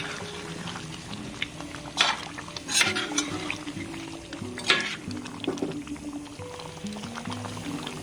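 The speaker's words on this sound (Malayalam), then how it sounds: "മിക്സ് ചെയ്ത് കൊടുക്കുന്നുണ്ട്" A spoon stirs and scrapes through thick chicken curry with buttermilk in a pot, with scattered clinks and soft wet sloshing throughout, no voices.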